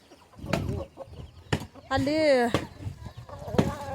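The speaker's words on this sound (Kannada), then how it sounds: "ಕೋಳಿ ಅವ ನೋಡ್ರಿ" Farm chickens give a brief squawk and some scattered clucks, close by and mixed in among people talking.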